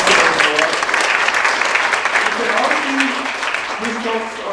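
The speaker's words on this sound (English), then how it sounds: "we should all, first of all, give a clap to Ludovic" Steady, dense audience applause fills a Wikimedia conference hall, loud and continuous throughout, with faint voices murmuring underneath the clapping.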